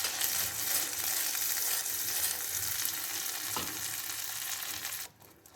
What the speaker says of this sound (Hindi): इसको अब हम अच्छे से भूनेंगे